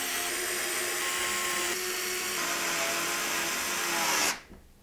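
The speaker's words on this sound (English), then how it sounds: "we're going to use the long radiator screws that come with the AIO to secure the fan to the radiator" A power driver runs loud and close as long radiator screws fix a fan to an AIO liquid-cooler radiator in a Montech Air 903 Max PC case build, a steady whine lasting about four seconds before cutting off abruptly.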